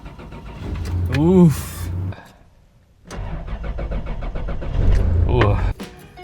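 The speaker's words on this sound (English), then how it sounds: "on cold start, first cold start, she's got an extended crank." A car engine with TRD wheels is cold-started with an extended crank: a loud cranking whir and catch, a brief quiet gap, then another crank and the engine running. A voice is heard partway through.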